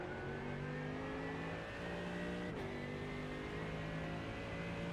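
A Mercedes AMG GT3 EVO race car on race fuel in iRacing at the Nürburgring 24H circuit, its engine holding a loud, steady drone with a brief pitch dip midway, like a gear change. No voices are heard.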